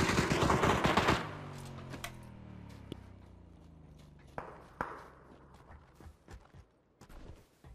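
Gunfire in the battle royale game PUBG: a dense burst of rapid shots at the start, followed by scattered single cracks and footstep-like thumps at moderate distance.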